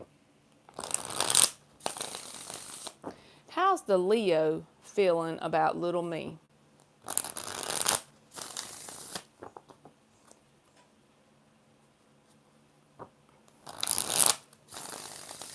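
Tarot cards are shuffled in several crisp, riffling bursts separated by pauses, close up, with a voice speaking briefly in between.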